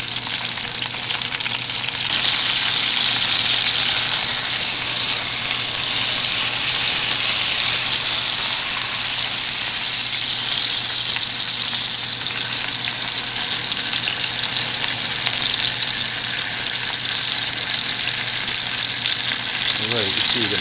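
Beef searing in a cast iron Dutch oven at a camping cookout, a strong continuous sizzle and crackle of hot fat holding steady throughout, with no talk over it.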